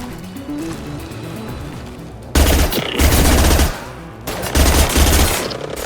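Sustained bursts of automatic gunfire from a new gun in Mass Effect, loud and close, coming in two long rapid volleys separated by a brief pause.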